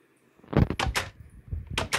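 Several game doors open and close in Minecraft, making short wooden clunks in quick succession. They sound close and fairly quiet, with no talking.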